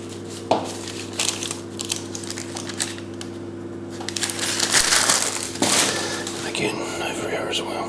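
Scissors snip around the edge of chicken pie pastry, giving a series of crisp, close cuts and crinkly scraping against the dish, with soft talking in between.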